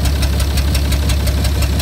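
A Hercules six-cylinder engine idles steadily and close by, with a continuous low rumble and an even, rhythmic knock of firing pulses throughout.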